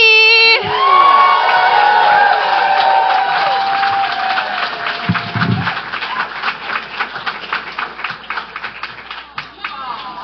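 A comedy club audience in Seattle whoops and cheers as a comedian is welcomed to the stage. Loud shouts and whistles come first, then turn into sustained clapping while a voice speaks over the crowd.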